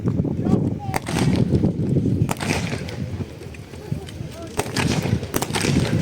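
Infantry rifle fire at a Tankfest battle reenactment, with sharp scattered shots cracking out at irregular intervals over a loud outdoor crowd rumble while a commentator talks over a public address system.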